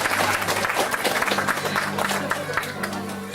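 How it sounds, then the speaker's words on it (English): A crowd at an undersea gardens show in Victoria applauds to welcome a diver, dense steady clapping with a low hum underneath and faint voices in the mix. "let's have a great big round of applause to welcome our diver"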